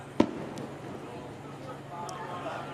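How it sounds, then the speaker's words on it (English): Fireworks go off near a July minor-league baseball game, one sharp bang followed by a few fainter pops, heard under crowd murmur and an announcer's commentary. "Fireworks in July."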